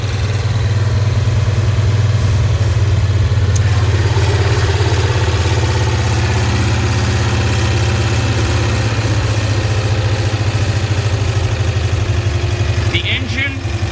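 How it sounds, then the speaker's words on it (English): The Outboard Motor Corporation slant-twin engine of a 1965 Cushman Truckster idles close and loud, a steady low throbbing drone that runs evenly from start to end. "The engine you see here is an Outboard Motor Corporation slant twin, so the cylinders fire in a sideways configuration."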